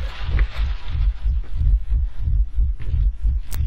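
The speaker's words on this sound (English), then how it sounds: "So that's where the heartbeats come from" A steady pulsing heartbeat from the horror game Layers of Fear, deep low thumps repeating in an even rhythm about every third of a second, loud and close and carrying on for the whole stretch.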